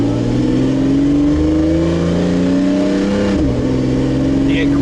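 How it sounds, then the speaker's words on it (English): A sports car engine revs loudly as it accelerates, pitch climbing, then dips sharply at a manual gear change before pulling again, heard from inside. "There's a lot of engine noise, a lot of natural sound"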